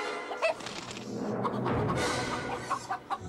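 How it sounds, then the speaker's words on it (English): Chickens cluck in a Minecraft video game ad, short clucks coming in a few bursts over a steady background bed, with no talking. "And chicken."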